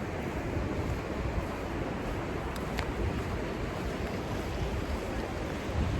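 Atlantic Ocean surf washes onto a beach in a steady, soft, continuous roar, mixed with wind buffeting the microphone and no talking.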